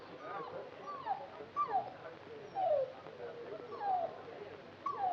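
A dog whimpers in a series of five or six high, falling whines spaced about a second apart, fairly close, over a quiet background.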